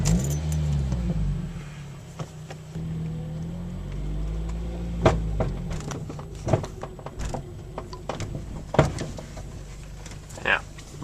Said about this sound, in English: I'll do a kind of montage of me going over bumps and the sounds that it makes.